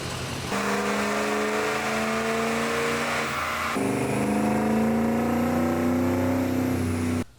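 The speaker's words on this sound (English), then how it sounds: "we've done a bunch of dyno pulls" A 6.0 Ford Power Stroke diesel roars on a dyno pull, holding a loud, sustained engine tone that climbs in pitch, steps up partway through, then cuts off abruptly.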